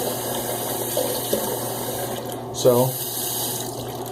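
Tap water runs steadily as soap lather is rinsed off a hand, with a brief splashy surge near the end; a voice speaks briefly over the flow.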